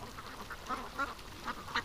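Backyard ducks give a few quick quacks, four or five short calls spaced about a quarter second apart, fairly faint and close.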